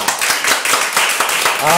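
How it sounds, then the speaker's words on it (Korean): A church congregation in Jeonju claps together during a service, a short burst of dense, rapid hand claps. A voice starts speaking over it near the end. "박수하겠습니다."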